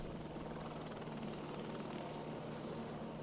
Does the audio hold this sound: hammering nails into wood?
no